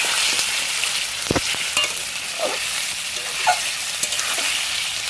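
Chicken being stir-fried into kosha in a pan gives a continuous close sizzle, with scattered scraping and clinking as the pieces are stirred, and no talking.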